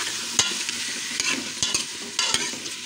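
Baby potatoes and tomatoes frying in a pan, a steady close sizzle with several sharp knocks and scrapes of a stirring spoon at irregular intervals, no voices.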